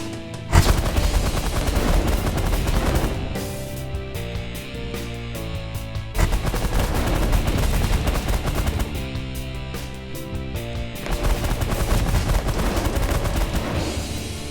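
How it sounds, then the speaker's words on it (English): Minigun fire in the space strategy game The Last Federation rattles in dense, sustained bursts, loud and continuous with brief lulls amid game music. "So I just got to beat them up with miniguns for the most part and early on."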